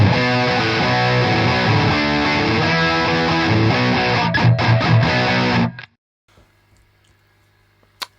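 An electric guitar through a Wampler Ratsbane distortion pedal at maximum distortion plays a loud, heavily saturated riff with chords and single notes for about six seconds, then cuts to near silence with a faint hum and a brief final pluck.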